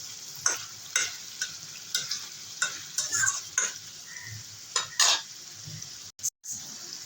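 Eggplant and onion are stirred and fried in a fish curry made with onion stalks, with rhythmic spatula scrapes about every half second over a low, steady sizzle, and no talking.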